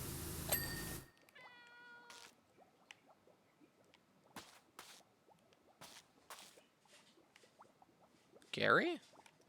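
Gary the snail meows in the SpongeBob edition of PowerWash Simulator, a short cat-like call rising near the end over quiet, sparse game clicks and drips, after a brief loud burst at the start.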